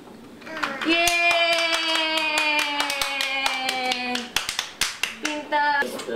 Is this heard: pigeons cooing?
no